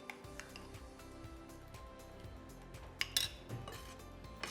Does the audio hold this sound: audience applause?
no